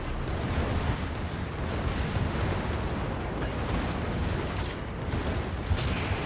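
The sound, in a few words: warship secondary guns firing, from a naval video game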